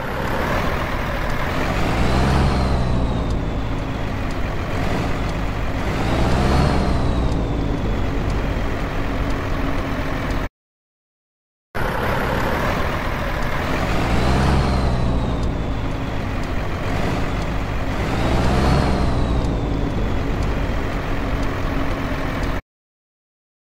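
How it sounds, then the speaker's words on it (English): Heavy truck in Universal Truck Simulator driving through a river over a submerged road: a steady, loud engine drone with rumbling low end, running alone in two long passes separated by a brief gap. "Now let's have a look at the small clip of truck crossing this beautiful river."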